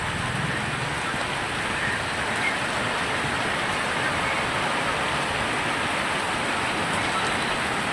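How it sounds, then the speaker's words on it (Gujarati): Steady heavy rain pouring down in Gujarat, a dense unbroken hiss of drops striking surfaces, close and continuous with no voices. "એક ધારો વરસાદ ચાલુ થઈ ગયો પાછો"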